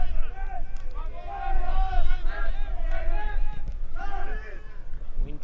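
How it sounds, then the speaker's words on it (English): Football crowd at an Australian Championship match between Metrostars and Wests APIA, a broad hubbub of many voices swelling and rising into louder shouts and cheers, steady and continuous with gusts of wind noise underneath. "Wind picking up, crowd getting vocal."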